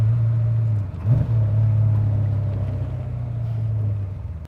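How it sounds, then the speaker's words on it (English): A V8-swapped Mazda Miata accelerates hard from 0 to 60 mph, its loud, steady engine drone holding close throughout with a brief lurch in pitch near the start, like a gear change. "we finally have a Miata on this channel doing 0 to 60 in the 4s"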